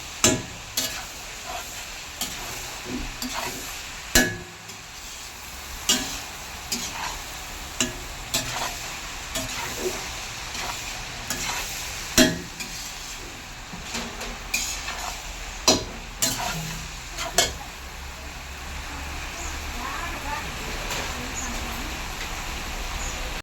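Cluster beans fry in oil while a utensil stirs them, a continuous sizzle broken by regular sharp scrapes and knocks of the spatula against the pan, close and steady throughout.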